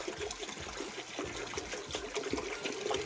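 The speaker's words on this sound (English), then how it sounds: "to a large stock pot, I'm just going to add some white grape juice with peach flavoring in it." White grape juice with peach flavoring poured into a large stock pot, a continuous soft splashing stream with small gurgling bursts, fairly quiet and with no voices.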